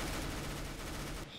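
Rapid gunfire from the video game Counter-Strike: Global Offensive rattles loudly in a dense burst for just over a second, then cuts off abruptly.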